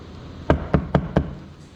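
Four sharp knocks on a bare steel rear door panel of a Mercedes-Benz CLS with the trim removed, evenly spaced, each with a short hollow metallic ring, close by and alone.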